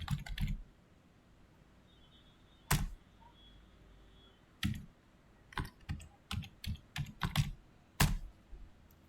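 A SQL*Plus connect command typed on a computer keyboard for an Oracle database, heard as scattered key clicks: a short burst, a few isolated taps, then a quicker run of keystrokes with a hard final press, close and alone.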